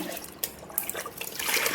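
Liquid trickles and splashes into a container, a light steady pour of micronutrient and Epsom salt plant spray solution that grows slightly fuller toward the end.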